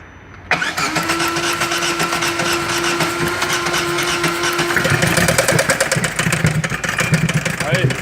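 A Chevrolet Corsa with an engine noise fault starts up and runs steadily, its mid-pitched engine note rising a little as it is revved near the end, loud and close.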